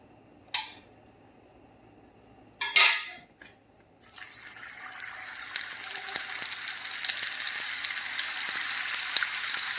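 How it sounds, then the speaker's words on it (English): A pan is set down with a few clanks, then butter begins to melt and sizzle for frying apple pies, the hiss rising gradually and holding steady up close. "Melt this butter in here."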